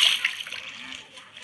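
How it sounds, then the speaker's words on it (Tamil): A character in Minecraft plunges into water, a bright splash at the start that fades into softer trickling and sloshing, fairly close and alone. "தண்ணிக்குள்ள முங்கிடுறா."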